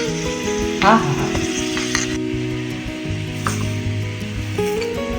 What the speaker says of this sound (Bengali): বাটারে ফ্রাই করে নিচ্ছ রসুনগুলো?